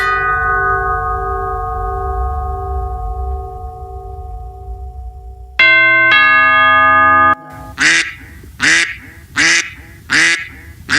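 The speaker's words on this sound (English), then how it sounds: "Next one is doorbell ringing." A doorbell rings in a home with a few bright, ringing chime tones, loud and close, followed by a run of sharp, repeated quack-like bursts.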